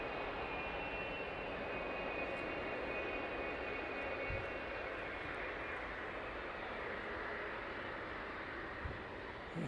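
A DHL Boeing 777 taxis toward runway 09 at East Midlands Airport, heard as a faint, steady, distant jet engine hum with little change.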